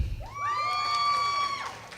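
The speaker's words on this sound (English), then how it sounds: "And of course, you can cheer too." A crowd cheers and whoops for a graduate being named at a university commencement ceremony, a steady, sustained burst of voices with a high shout or whoop rising above it, lasting about two seconds.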